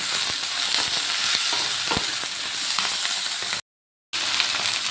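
Chopped tomato fries in a pan, giving a steady close sizzle with occasional stirring clicks, briefly cut to silence near the end before resuming.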